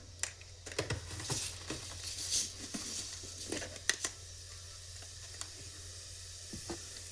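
Cumin seeds sizzling in a few spoons of hot oil in a kadai, a steady hiss with scattered crackles and pops, close and moderately loud, with no talking.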